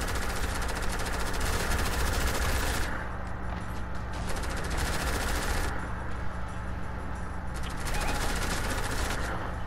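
Sustained video game gunfire from Marauders, a dense fusillade of rapid shots with a steady engine-like rumble underneath, loud and continuous across the whole stretch with brief gaps in the high crackle.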